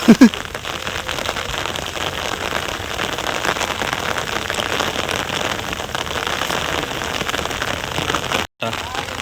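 Rain falls hard and continuously outdoors at a fishing spot in Nellore, a close, even wash of pattering drops with a couple of brief sharp knocks at the start and a momentary dropout near the end.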